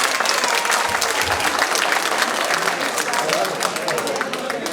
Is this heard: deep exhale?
no